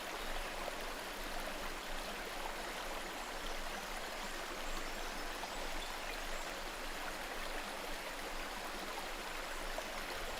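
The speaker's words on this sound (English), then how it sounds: "Rainwater cascades from the Ghats." Monsoon rainwater cascades down the slopes of the Ghats in a steady, dense rush of flowing water, a continuous stream-like roar with no break, fairly close and alone without voices.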